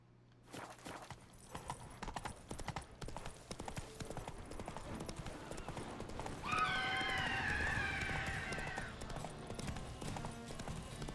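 Roach, a horse in The Witcher 3: Wild Hunt, gallops in steady rapid hoofbeats, with a loud neigh breaking out midway over the running clatter.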